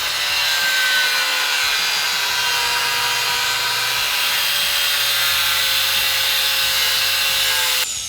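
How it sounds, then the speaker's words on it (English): A saw cuts steadily and loudly through the exhaust pipe of a 2020+ Ford Mustang Shelby GT500 during an MBRP X-pipe install. The rasping stroke continues without a break for about eight seconds and stops abruptly at the end. "So now we're gonna make a cut on this side"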